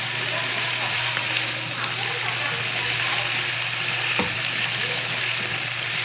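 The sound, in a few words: chicken heart sautéing in a pan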